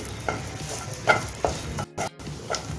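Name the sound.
raisins frying in a pan for sheer khurma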